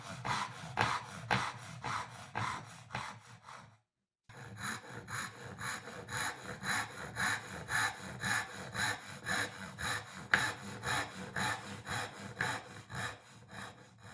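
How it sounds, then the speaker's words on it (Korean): Hand saw cutting through wood while shaping a mitered dovetail joint for furniture, steady rhythmic back-and-forth strokes close up, with a brief pause partway before sawing resumes. "각도에 맞게 톱질하여 가공합니다."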